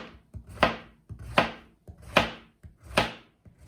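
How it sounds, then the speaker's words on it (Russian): A knife slices peeled zucchini into rounds on a board, four crisp, evenly spaced chops about every 0.8 seconds, close and clear with no speech. "Теперь очищенный кабачок нарезаю вначале на кружочки"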